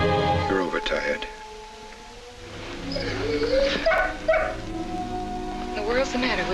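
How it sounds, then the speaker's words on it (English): Dog howling while locked in a cellar in the 1946 film The Stranger, drawn-out whining wails rising and falling over a rainy background, with people talking in the scene. "I put him in the cellar. No wonder he's howling."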